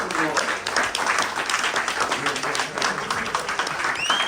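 An audience applauds the New York 21 members at a Tupac documentary panel discussion, dense steady clapping and crowd noise filling the whole stretch, with voices mixed in.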